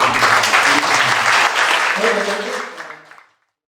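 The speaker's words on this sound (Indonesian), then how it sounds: "Berikan tepuk tangan yang meriah." A church congregation at a Sunday worship service gives loud, lively applause up close, with scattered voices and cheers mixed in, before it stops abruptly into silence.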